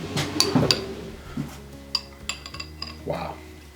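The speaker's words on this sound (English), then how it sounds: "We'll grab us some spoons." Metal spoons clink and rattle against each other as they are grabbed in a home kitchen, giving a few bright, close chinks spaced over several seconds.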